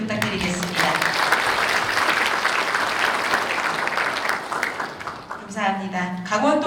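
A large conference audience applauds loudly and steadily for an opening dance and drone circus performance at an international drone sports and entertainment conference in Yeongwol, Gangwon, with a host's voice rising over the clapping near the end.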